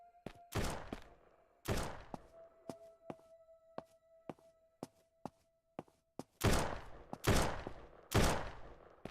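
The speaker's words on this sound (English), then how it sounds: "That sound is shooters." Gunfire from shooters in the zombie survival game SurrounDead, heavy bursts of shots at the start and end with scattered single thuds and footsteps between, loud and close, no talk.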